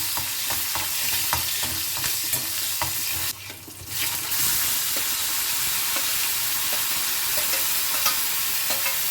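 Panch phoron with a dried red chilli and slit green chillies sizzling in hot oil for an Assamese rohu fish curry, a steady crackling fry with scattered pops and a brief stir partway through.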